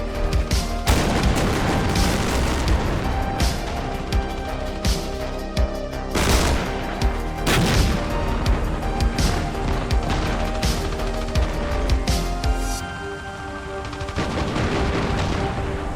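An anti-air gun in the war game Armored Brigade II pounds away at town buildings, with dense bursts of gunfire, booms and crashing impacts rolling on almost continuously, loud and layered, with a few short lulls between volleys.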